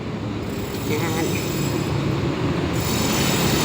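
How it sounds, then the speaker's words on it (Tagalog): An elevated MRT train rumbles past overhead along a roadside, a continuous loud rolling roar with faint wheel squeal, heard over street noise with speech in the background. "Yan tingnan nyo yung MRT train. MRT railway."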